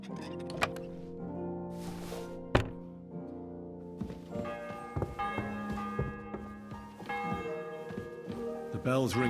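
A church bell tolls in the medieval world of Kingdom Come: Deliverance II, sounding with sharp struck thuds and a sustained ringing tone over several seconds, mixed with other game sounds.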